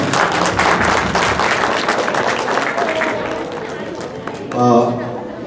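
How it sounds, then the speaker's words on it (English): A crowd at an association anniversary board introduction applauds fairly loudly for several seconds under a speaking voice, the clapping thinning toward the end before a brief louder swell. "the whole of the Albany, I think, deserves a very big applause for everything"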